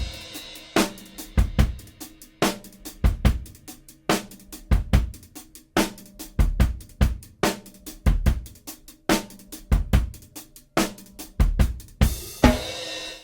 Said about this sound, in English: I have a simple drum loop loaded in that sounds like this.